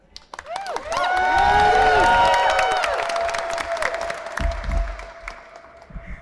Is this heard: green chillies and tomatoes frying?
no